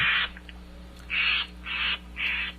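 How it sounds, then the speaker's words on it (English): A Florida scrub jay gives four short, harsh raspy calls in a steady sequence, fairly close and clear over a low background hum. "Scrub Jay there making a little extra comment."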